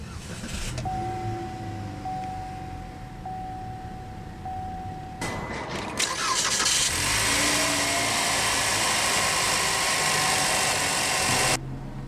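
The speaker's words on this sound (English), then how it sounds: "let's go ahead and start the engine" A 2015 Cadillac CTS 2.0T cranks and fires up with a loud surge after a few quiet seconds, then settles into a steady idle with a broad whoosh of fan or blower noise, no talk.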